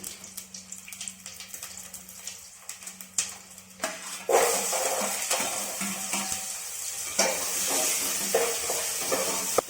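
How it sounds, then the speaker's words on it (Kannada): Chopped onion dropped into hot oil with crushed garlic and cumin for a tempering, a loud sizzle that swells from about four seconds on over earlier clinks and stirring, with no voices. "ಈರುಳ್ಳಿ ಚೆನ್ನಾಗಿ ಫ್ರೈ ಆದಮೇಲೆ"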